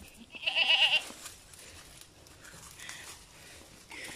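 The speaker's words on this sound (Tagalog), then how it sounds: "Yung kambing nila oh" A goat lets out one wavering bleat close by, followed by quieter farmyard background sounds and a faint second call.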